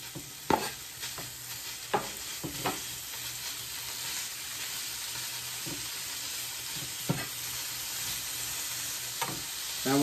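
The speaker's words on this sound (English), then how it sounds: "now we're going to throw the steak on the grill" Steak for a Philly cheesesteak sizzles steadily on a flat grill, a continuous frying hiss broken by a few sharp scraping and stirring knocks, close and alone with no talk.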